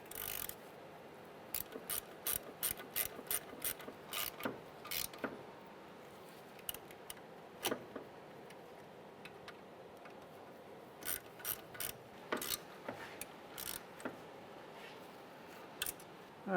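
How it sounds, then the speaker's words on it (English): A ratchet wrench with a 10mm socket tightens the front strut bolts on a 2011-2016 Hyundai Elantra, giving quick clicking runs in several bursts separated by pauses, close and crisp. "with a 10mm socket, we'll tighten those down"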